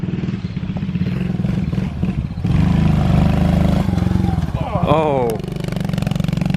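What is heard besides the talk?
pit bike being ridden, engine running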